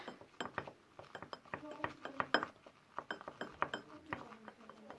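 Slime mixture is stirred in a container, producing irregular clinks and scraping taps in quick succession, close and fairly quiet.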